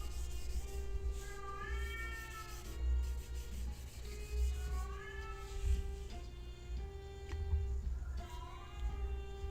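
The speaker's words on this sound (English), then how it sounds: "My cat's singing." A cat meows repeatedly in rising, drawn-out, song-like calls, three distinct bursts at fairly even intervals, close by over a low steady hum indoors.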